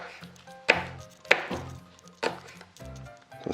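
A knife chopping food on a cutting board in a home kitchen, a handful of sharp separate thwacks at an uneven pace, close and alone with no talking.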